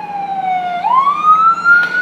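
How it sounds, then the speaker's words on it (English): An ambulance siren wails loud and close, its tone sliding down and then climbing steeply as the vehicle passes. "Just to let you know, this is the same ambulance."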